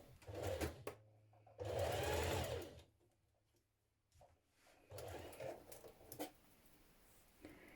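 A sewing machine stitching gathers into the shoulder of a dress, running in three bursts of rapid mechanical whirring separated by pauses, close and fairly quiet, with no talk.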